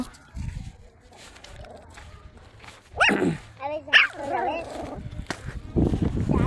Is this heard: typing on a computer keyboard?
no